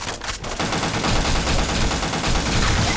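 Rapid automatic gunfire in a video game shooter, loud and dense bursts running nearly the whole time, with a brief quieter gap near the start.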